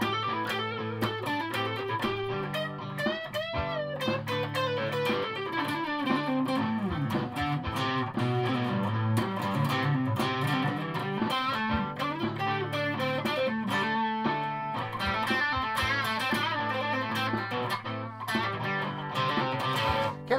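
A Japanese-made Fender Jaguar electric guitar played on its rhythm circuit without reverb, strummed chords and picked notes with a distorted tone in a steady, continuous passage, no talk.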